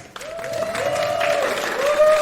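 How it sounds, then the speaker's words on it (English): Audience at a steampunk convention panel giving a brief round of applause for the panel team, scattered clapping building over about two seconds with a faint voice underneath. "could we have a little round of applause and a thank you to our incredible team"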